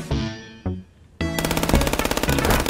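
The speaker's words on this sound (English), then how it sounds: "You and your goddamn machine gun." Machine gun fire in the video game FPS Chess: two short thumps give way to a loud, rapid, sustained burst of evenly spaced shots lasting over a second.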